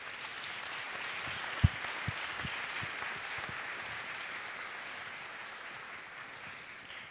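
An audience at the ADI Design Index 2023 presentation in Milan gives a round of applause, a soft, even patter of many hands at a distance, with a few sharper knocks near the start.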